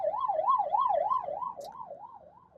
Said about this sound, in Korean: 그때 기억 때문인지 구급차들이 이렇게 지나가면